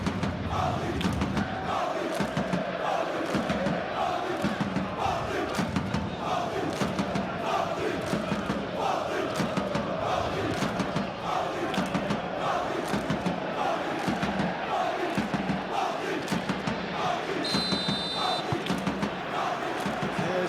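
Simulated stadium crowd at a PSG versus Arsenal Champions League final in a football video game, a dense continuous roar with rhythmic chanting and cheering that holds steady throughout at close, loud level.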